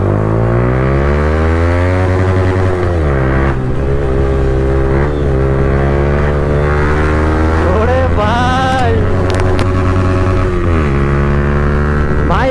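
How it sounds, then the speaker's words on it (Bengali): A motorcycle exhaust roars loud and close while the bike is ridden, its steady drone rising and falling with throttle changes and a sharp revving surge partway through. "এক্সস্ট থেকে ভাই খতরনাক আওয়াজ দিচ্ছে এখন"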